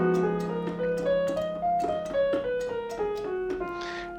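Piano playing an F Locrian scale in stepwise single notes over a sustained left-hand chord, the melody climbing and descending at a steady moderate pace, heard alone.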